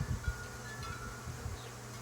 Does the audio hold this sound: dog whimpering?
no